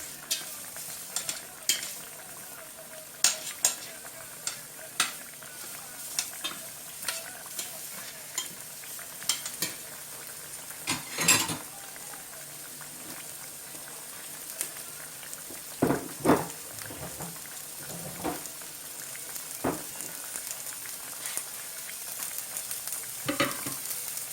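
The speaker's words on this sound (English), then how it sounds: "You could add a pinch of salt to the onions. That helps them caramelize a lot faster or break down." Onions frying and caramelizing in a pan with a pinch of salt, a soft steady sizzle with frequent crackles and occasional stirring scrapes, quiet and close, with no talk.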